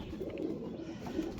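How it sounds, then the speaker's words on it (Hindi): Pigeons cooing in a village, soft low repeated coos close by, with a faint background hum. "असली असली है ये कबूतर।"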